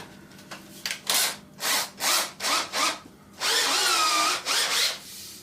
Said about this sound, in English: mount this into a drill, fold some sanding paper around it.